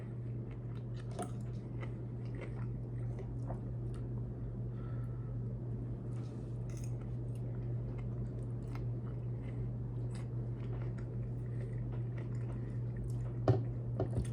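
Someone eating salmon and asparagus close to the mic, soft wet bites and chewing squishes scattered over a steady low hum, with a few sharper clicks near the end.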